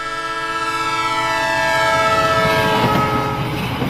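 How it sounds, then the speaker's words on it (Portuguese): A moving train's whistle sounds as a loud, sustained horn with steady tones, rail rumble and clatter building beneath it as the train passes close by; no voices. "Percebemos o efeito Doppler quando ouvimos o apito de um trem em movimento."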